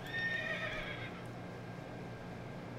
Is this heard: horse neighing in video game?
yes